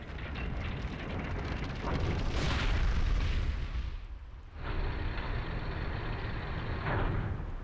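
A crusher slamming down on a box in Resident Evil HD: a heavy grinding mechanical rumble swells into a loud crushing boom, then settles into a steady machine hum.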